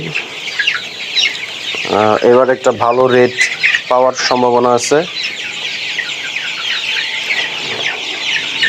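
Sonali super hybrid chickens about 35 days old cluck on a poultry farm, a burst of loud, close clucking in two short runs over steady background noise, with someone speaking before and after.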